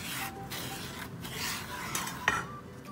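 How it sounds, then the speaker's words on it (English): Modak batter being stirred and mixed in a pan until lump free, a continuous scraping, rasping swirl of a spoon against the vessel with a few light clinks. "Let's give it a good mix and make it lump free"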